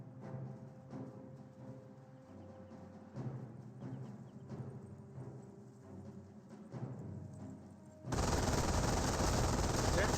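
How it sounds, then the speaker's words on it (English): MG42 machine gun in Company of Heroes fires rapid bursts, a loud, dense rattling stream of shots that continues for several seconds amid battlefield noise. "MG42 does get a good burst there onto the engineers"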